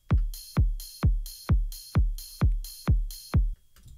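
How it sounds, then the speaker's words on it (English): A ride cymbal rings out in an indie game drum track for a slime boss theme, riding eight evenly spaced strokes over deep kick-like thumps, each hit bright and sustained before a brief trailing tail. "I added this like ride cymbal that sounds like this"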